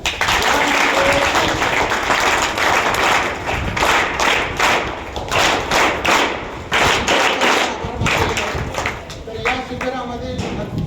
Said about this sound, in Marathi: सर्वांनी एकदा त्रिवार टाळ्या होत्या